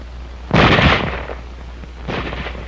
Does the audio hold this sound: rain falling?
no